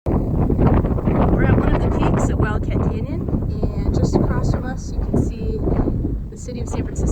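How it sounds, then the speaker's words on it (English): Gusty wind buffets the microphone with a constant low roar on a hilltop at Wildcat Canyon while a person talks over it. "It's rather windy out"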